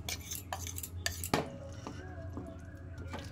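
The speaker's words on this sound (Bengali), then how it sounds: "মশলাটা ঢেলে নিলাম, এটা আমি এবার কুলের আচারে মিশিয়ে দেবো।" Spiced paste stirred and scraped with a spoon into jujube pickle in a metal pot, giving a few close clinks and soft mixing scrapes, with one sharp clatter partway through.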